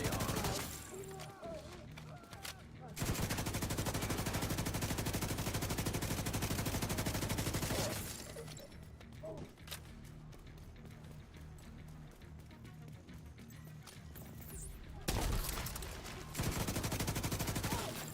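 Sustained bursts of automatic FAL rifle fire in a first-person shooter game, rapid and dense, in long stretches broken by brief pauses, loud and close with faint talk underneath.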